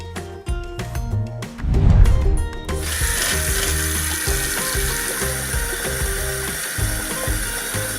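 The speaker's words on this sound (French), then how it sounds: "Émilie, viens te laver les mains." Tap water runs steadily into a sink for hand washing, opening with a few clicking, ratcheting knocks before a continuous hiss of flowing water fills the rest, fairly loud and close with no talking.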